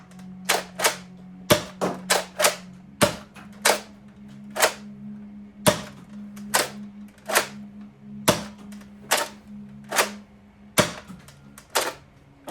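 A foam dart blaster fires a rapid string of sharp, snappy shots, about a dozen pops in quick succession and close by, with a faint motor hum running underneath.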